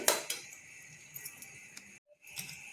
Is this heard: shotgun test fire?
no